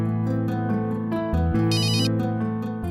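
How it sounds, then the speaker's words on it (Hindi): A phone rings with an incoming call in a Hindi TV serial, a loud electronic melodic ringtone repeating steadily and close, with no one speaking over it. "आनंदी, आपने इस वक्त कैसे फोन किया?"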